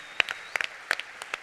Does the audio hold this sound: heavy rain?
no